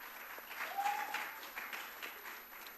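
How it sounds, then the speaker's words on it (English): Audience applause at a literature prize event, a faint, distant patter of clapping from a crowd that continues steadily for a few seconds. "Another round of applause for him."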